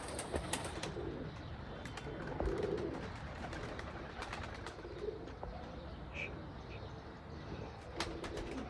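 Teddy pigeons coo softly at a breeder's loft, with low repeated coos and scattered chirps from other birds, a few wing flutters and faint background noise in between.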